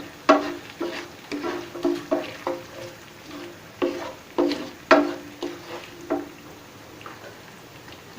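A spatula stirs spices in a pan over medium heat while narkeli kochu (coconut taro) cooks, giving a steady run of about a dozen scraping, sizzling strokes in an even rhythm, close and clear with no talking.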